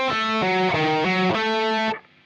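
A distorted electric guitar plays a phrase from a solo: a loud, sustained run of bent and held notes with a few quick changes, alone and ending abruptly after about two seconds.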